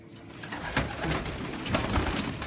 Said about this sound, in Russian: Такой же серый голубь вот.